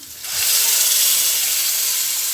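A sudden loud sizzle bursts in as ground spice paste is poured into a hot pan for egg curry, a bright hissing fry close by that continues for a couple of seconds.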